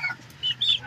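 A street comb gamefowl chicken gives a couple of quick, close clucks in a brief moment.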